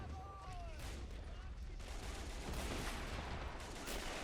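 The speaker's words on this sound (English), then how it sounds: "We have a few machine gunners active. You can hear that by the gun sounds." Machine gun fire and scattered gunshots from a World War I field battle in the Men of War Assault Squad video game form a dense, continuous crackle of fusillade throughout, with a brief whistling tone near the start.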